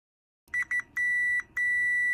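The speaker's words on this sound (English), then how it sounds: "you can set this button and it beeps at you" Multimeter in continuity mode giving sharp electronic beeps: two short chirps, then two longer sustained tones, close, clear and alone.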